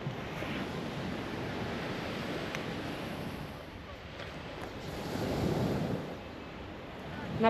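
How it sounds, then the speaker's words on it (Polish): Sea waves wash onto a beach at Stegna, a continuous rushing surf that swells louder near the end and is mixed with wind buffeting the microphone. "bo słychać szum fal"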